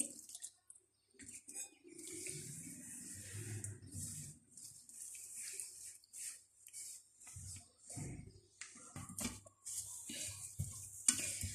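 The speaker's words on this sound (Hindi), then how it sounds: "अब हम आहिस्ता आहिस्ता पानी डाल के आटा गूंदना स्टार्ट करते हैं" Samosa dough being kneaded by hand as water is slowly added, soft close squishing and pressing with faint splashes and drips in short irregular bursts, heard alone.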